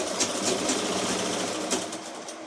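A sewing machine stitching fabric with a steady fast mechanical whir and needle clatter, close and continuous throughout, with no voices.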